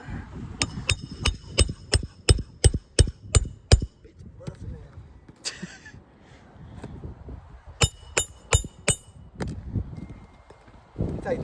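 A hammer strikes sharply during a home repair attempt, first in a quick steady run of about a dozen blows, then after a pause in a second shorter series, with people talking in between.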